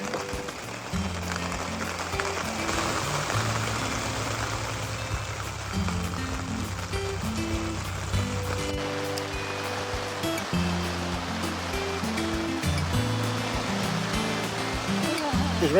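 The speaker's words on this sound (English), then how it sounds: "It's raining a lot." Steady heavy rain at Mathers Campground in Arizona makes a dense, continuous wash of noise, joined by persistent low tonal humming and occasional faint voice-like sounds.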